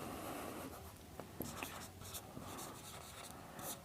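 Chalk scratches faintly but steadily across a classroom board during a physics lesson on light, with soft irregular strokes and taps going on for several seconds in a quiet room.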